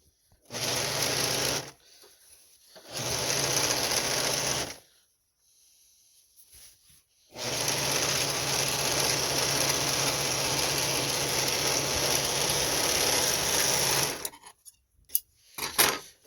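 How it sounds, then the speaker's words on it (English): A home sewing machine runs in bursts while stitching pajamas through several layers of fabric: a short run, a pause, a second run, then a long steady run of about seven seconds before it stops, followed by a few small clicks. "go slow, because remember, you're going over a lot of fabric and you're stitching."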